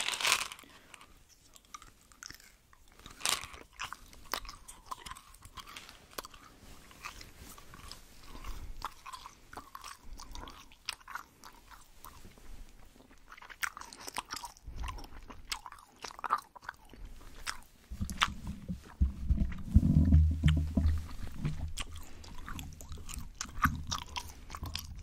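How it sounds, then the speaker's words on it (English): Gum being chewed close to the microphone with wet, crunchy mouth sounds in steady bites, growing louder and fuller near the end, with no talking. "And now we're gonna be doing some chewing gums."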